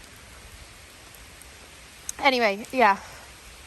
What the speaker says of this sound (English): Oh, it's really raining again.